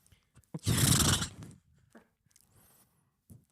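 A person's voice imitates a horse's neigh: one loud, breathy whinny lasting about a second, followed by faint rustles and a short quiet breath.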